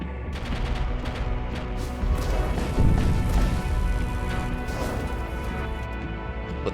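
Weapons fire in the space combat game Void War as bursts of crashing impacts and rapid shots, with heavier hits near the middle over a continuous mechanical game background.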